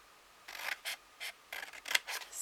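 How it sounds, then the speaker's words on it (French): Scissors snipping off the excess paper from an envelope flap, a series of short, close, crisp cuts in uneven rhythm against a quiet background. "Donc je vais découper l'excédent ici du revers."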